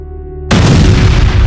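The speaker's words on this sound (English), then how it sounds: "The explosion sent me flying." A sudden, loud explosion sound effect bursts in after a brief tonal lead-in, a deep booming roar that sustains heavily for about a second.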